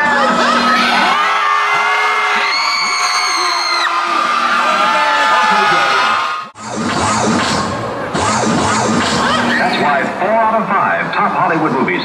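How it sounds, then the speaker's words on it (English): Children at a shopping mall Christmas event shouting as loudly as they can to win Christmas badges, a loud crowd of high yells and whoops with a short pause midway and a host's voice at the start. "Dave has a handful of these Christmas badges to give away right now to the person that shouts the loudest"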